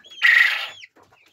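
Young Brahma chicken gives a single loud clucking call near the microphone, followed by a few faint softer peeps and rustles in a farmyard.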